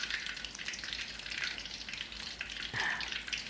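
Pork belly frying in hot oil for crispy garlic pork, giving a steady, close sizzle and crackle that holds for a few seconds with a brief louder pop near the end.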